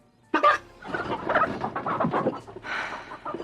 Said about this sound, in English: she had turned the chicken back into a real chicken in the refrigerator